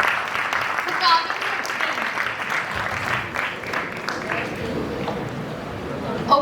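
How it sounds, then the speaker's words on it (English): A round of applause greets a startup team at an international startup competition, a dense wash of clapping from the audience that holds steady throughout, with some crowd voices mixed in. "Have a huge round of applause, please."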